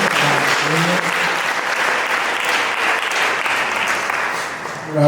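A church congregation at an ADEPR service applauds for God, loud and sustained clapping from many hands that carries on for around five seconds with no voices on top of it.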